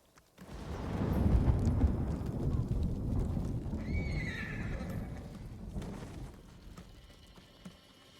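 In a samurai video game, a horse whinnies with a rising shrill neigh mid-clip while hooves clop and heavy rumbling gameplay noise fills the background, fading toward the end.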